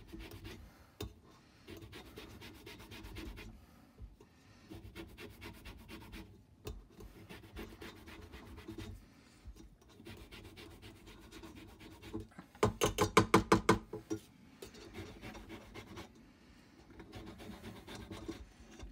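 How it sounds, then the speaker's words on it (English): Orange being zested for blueberry and orange scones, soft repeated scraping strokes in short bursts with pauses, close and quiet, with one brisker, louder run of rasps partway through. "we are going to add some orange zest"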